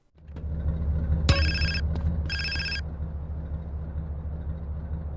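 A mobile phone rings in GTA San Andreas: two bright electronic rings sound over a constant low engine rumble from a car, close and clear, and then only the engine drone continues.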